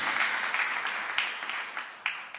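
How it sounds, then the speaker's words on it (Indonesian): Church congregation clapping enthusiastically in praise of Jesus, a dense continuous ovation with a few sharper claps standing out, gradually tapering toward the end. "Tepuk tangannya paling meriah buat Yesus."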